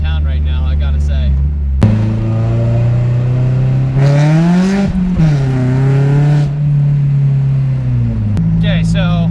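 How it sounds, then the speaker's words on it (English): Modified Mazda Miata with a straight-pipe exhaust droning while driving, a loud steady low buzzing tone that rises and falls in pitch with engine speed, with someone talking briefly at the start and end. "my only complaint is the straight pipe is ridiculously drony"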